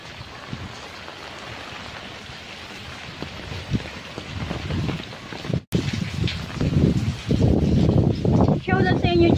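Strong wind of Super Typhoon Rolly roars as a steady broadband rush with gusting surges, a voice talking over it, and a brief dropout midway.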